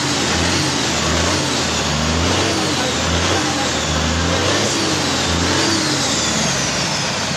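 A Foton Forward truck engine runs steadily after a turbo repair, a loud, close, continuous rumble with a gentle, even pulsing and no voices over it.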